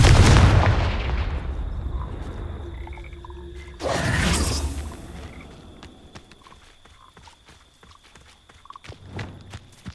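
A Confringo fire spell blasts off in Hogwarts Legacy, a loud fiery burst at the start followed by a second sharp impact blast about four seconds in, then fading crackles and scattered small hits trailing away.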